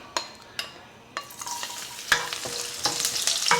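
Garlic drops into hot cooking oil in a pan for pancit guisado, with a few sharp clinks of a utensil followed by a rising, steady sizzle and occasional stirring scrapes.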